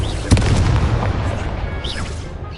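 A Confringo explosive spell goes off in a Harry Potter video game, one loud, sharp burst followed by a rolling low rumble, with a whooshing magical swirl rising and falling near the end.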